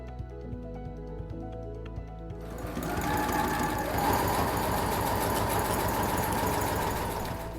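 A sewing machine hems the edges of a cot liner. A few slow stitches come first, then it breaks into a fast, steady, close mechanical chatter.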